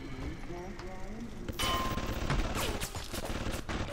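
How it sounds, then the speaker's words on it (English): Gunfire in the video game Bioshock, a few sharp bursts of shots from about halfway through, loud and close over a steady game background with music-like tones. "He's shooting at us"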